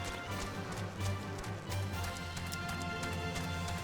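Horse hooves clip-clop in a rapid steady rhythm within Final Fantasy XIV gameplay, set over constant game music and ambience.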